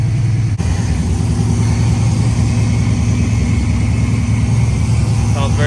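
A car's forged-bottom-end LS V8 engine, on its first start with EFI, idles steadily up close, a loud low throbbing rumble that holds an even pace throughout, with no one speaking.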